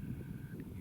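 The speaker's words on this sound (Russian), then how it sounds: "Ветер сильный. Каждый день ветер." A strong, cold wind in the mountains on a frosty day buffets close to the microphone as a steady low rumbling roar, with no voices heard.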